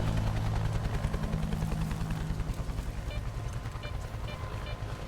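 A helicopter in the Stalker 2 Heart of Chornobyl video game, its rotor thumping steadily and loudly, close, with a heavy low rumble, heard alone without speech.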